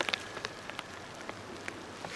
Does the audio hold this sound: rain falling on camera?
yes